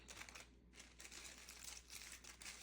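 Paper crinkles and crumples steadily over a disc of pie dough as it is wrapped and covered, a close, continuous rustle with no talking.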